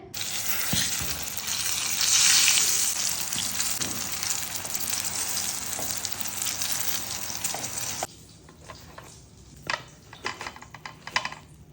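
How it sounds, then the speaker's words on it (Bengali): Eggplant (brinjal) slices frying in a pan give a loud, dense, crackling sizzle up close, which drops abruptly to a quieter bed of scattered pops and spits. "আমি এখানে হচ্ছে বেগুন ভাজবো দুইটা একসঙ্গে হয়ে যাবে"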